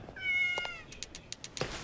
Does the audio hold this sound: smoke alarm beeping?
no